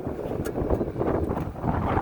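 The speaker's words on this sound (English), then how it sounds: "But as soon as that wind picks up, it gets pretty cold." Wind buffeting a microphone while riding a budget e-bike outdoors, a steady rushing roar with gusty swells across the short stretch, loud and close.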